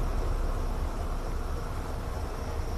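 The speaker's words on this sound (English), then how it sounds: "You can hear the cicadas calling all around us." Cicadas call all around an outdoor safari setting, a dense, steady hissing drone that fills the scene without a break and without voices.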